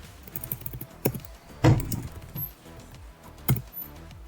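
A computer keyboard is typed on in a few sparse, close taps and clicks, with one or two louder key strikes standing out against quiet room tone and no talking.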